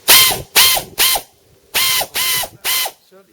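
Second-hand 3/8 air ratchet fitted with a socket runs in six short, loud whirring bursts, each about a third of a second, separated by brief pauses, close up with no talking.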